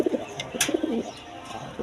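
Quality pigeons, sold with their chicks, give a few soft cooing calls close by, two short bursts near the start and middle, alone with no talk.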